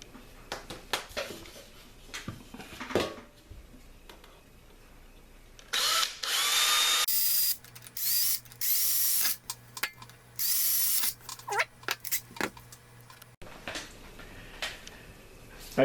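A power drill bores two holes into a portable grafting wax heater in several short, loud bursts of whining motor. Quiet handling clicks and faint movement come between the bursts.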